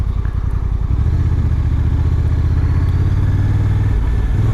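A Honda NT1100 motorcycle engine drones steadily at riding speed, a loud, continuous low rumble with a brief uneven patch at the start, heard alone without talk.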